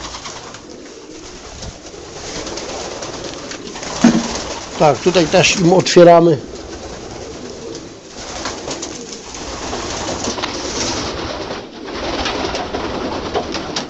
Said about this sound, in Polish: Tutaj są samice, one odpoczywają w tym gołębniku.